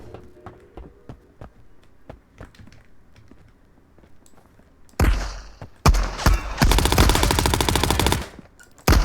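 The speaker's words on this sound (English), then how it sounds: "It doesn't matter if you're firing a 9mm or 10mm gun, it kicks like a mule and it just goes all around you." Heavy automatic gunfire from 9mm and 10mm guns in the space shooter Marauders erupts after quiet ticking and clicks, with a first loud burst followed by a long, dense, rapid stream of shots.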